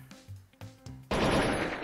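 Loud, close AK rifle gunfire from a gangster street-war video game bursts out in a dense volley at the end of the moment, after a few shorter, quieter game sounds.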